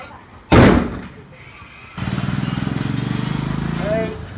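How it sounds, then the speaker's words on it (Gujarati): A single loud firecracker bursts sharply during village Diwali celebrations in Gujarat, then a motorbike engine chugs steadily close by for the rest of the moment, with faint voices in the background. "અહીંયા ફટાકિયા ફોડવાના છે."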